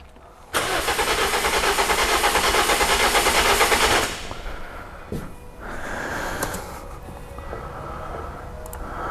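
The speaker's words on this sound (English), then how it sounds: "I'm going to crank the engine again" A Toyota Corolla engine that runs rough is cranked by the starter, a loud steady whirring drone lasting about three and a half seconds, then it stops and quieter rumbling follows.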